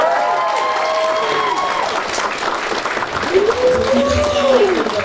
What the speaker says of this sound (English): We want to give a warm round of applause to Hisashi Kagawa.